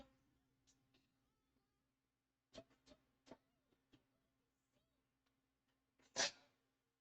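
A single sharp, loud sneeze bursts out near the end, after a few softer clicks and shuffles in an otherwise quiet room.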